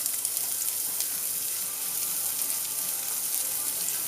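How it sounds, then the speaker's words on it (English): Sliced leek frying in olive oil in a warm pan, giving a steady, close, even sizzle that holds constant throughout with no talking. "I'm going to put some olive oil in there, my sliced leek, in it goes."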